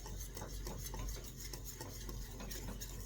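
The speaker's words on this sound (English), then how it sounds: "So stirring the pot, taking it off the side, stirring it up." Stirring a pot of turmeric golden paste on the stove, a steady scraping swirl of spoon against pan with soft rhythmic strokes, continuous and close, no voices.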